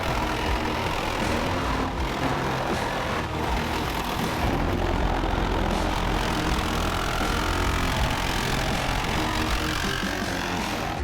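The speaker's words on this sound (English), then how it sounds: "take our sweet little Sawzall and..." A Sawzall reciprocating saw cuts through the body of a supercharged Ford Bronco II, a continuous loud, harsh buzzing rasp that runs steadily throughout.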